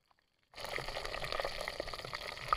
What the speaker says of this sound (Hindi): दोस्तों हमारी मिर्च फ्राई हो रही है